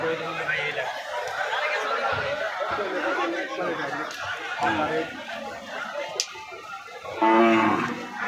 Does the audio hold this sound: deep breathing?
no